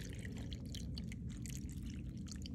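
Pulp-free Simply Orange juice poured over frozen blueberries: a continuous close splashing, gurgling pour with bright liquid spatters, steady and loud for a couple of seconds, no talking.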